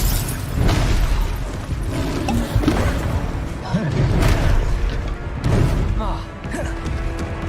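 Confringo fire-blast spells in the Hogwarts Legacy video game, several booming, crackling bursts spaced through a busy battle mix, with talking over the action.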